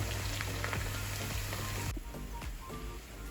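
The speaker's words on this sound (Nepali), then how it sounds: "पानी आउँदैन, यसरी तेलमा मात्रै फ्राई हुन्छ।" Chicken pieces fry in hot oil for a Nepali meat pickle, giving a steady, close sizzle with faint crackles and stirring sounds; the frying noise drops in level partway through and continues more quietly.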